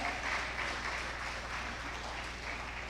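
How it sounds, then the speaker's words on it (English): Audience applause at a technical summit for a Nigerian investment forum, a steady dense wash of clapping from a crowded hall, moderately faint and continuous for about three seconds with no speech. "I thought you would make that applause much better."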